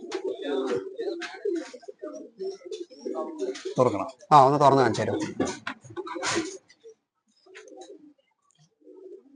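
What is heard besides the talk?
pigeons and pigeon chicks in cages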